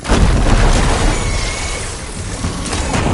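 A canister detonates in the video game Horizon Forbidden West: Burning Shores, a loud, dense explosion rumbling and crackling continuously throughout without letting up.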